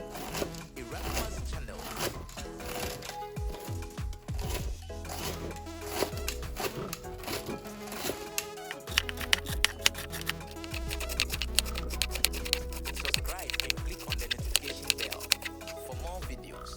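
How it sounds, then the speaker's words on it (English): Cabbage being sliced with a knife for a salad, a steady run of crisp, rapid cutting strokes close up, with brief pauses between bursts and low background hum. "I'll start by slicing my cabbage"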